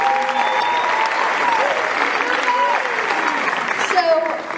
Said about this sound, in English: So give her a round of applause for that.